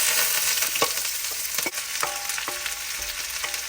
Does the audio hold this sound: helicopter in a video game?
no